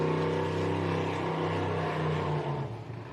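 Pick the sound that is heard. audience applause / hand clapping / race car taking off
race car taking off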